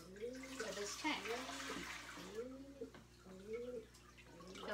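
Tea-stained water pours and trickles into a fish tank in a steady splashing stream while a person talks over it in bursts.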